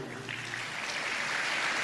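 An audience at a stand-up comedy show applauds, a dense, steady wash of clapping that holds and slightly swells over the moment.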